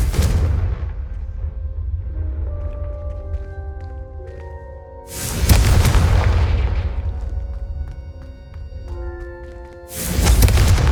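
Fiery Confringo spell blasts in Hogwarts Legacy, two loud booming explosions a few seconds apart, each with a sharp onset and a rumbling tail, amid game music with sustained tones in between.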